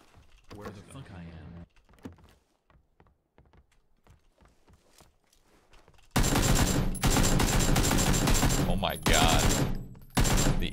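Rapid automatic AK rifle fire in PUBG erupts after quieter clicks and shuffling, loud sustained bursts with brief gaps, while a player talks near the start.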